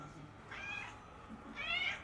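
An injured female kitten, rescued near a restaurant in Huelva, gives two faint, thin meows about a second apart over a soft background hum.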